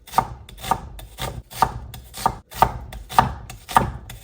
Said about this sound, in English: just roughly chop a couple of onions